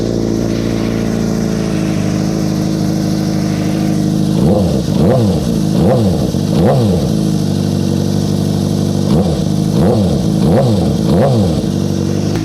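A Suzuki GSX-R600 motorcycle engine idles steadily, then revs sharply through the exhaust in two bursts of three or four quick throttle blips each, loud and close.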